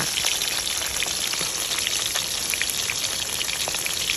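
Two mackerel sizzle and crackle in hot oil in a pan, a dense, steady spitting hiss with scattered sharp pops, close and continuous without talk.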